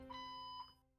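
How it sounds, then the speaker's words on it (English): A fire alarm sounds as a steady electronic tone, faint and distant indoors, with a pulse partway through before it cuts off. "That's a fire alarm."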